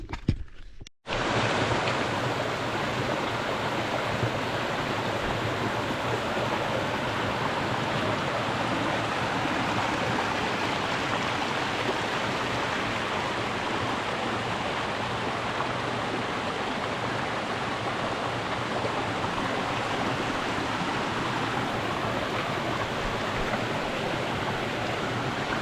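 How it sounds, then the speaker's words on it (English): Small waterfalls along a hiking trail produce a steady, full rush of falling water, close and constant, with no voices, after a brief handling thump at the start. "I told you there'd be waterfalls"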